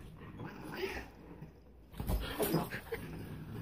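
A puppy whimpers in soft, high, wavering whines, first faint and then louder in a cluster of short cries near the end, with some quiet human sounds in the background.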